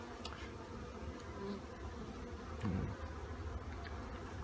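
Honeybees buzzing around a backyard hive during the first full inspection of the season, a steady low hum that continues throughout with faint background noise.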